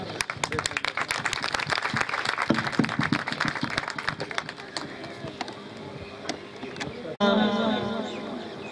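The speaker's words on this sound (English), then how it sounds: "Let us put our hands together and we clap for them." An audience at a conference claps together in a dense burst of applause that thins out over several seconds, then gives way to a speaker's amplified voice in a reverberant hall.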